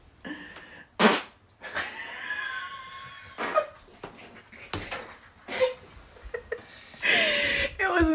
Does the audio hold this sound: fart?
yes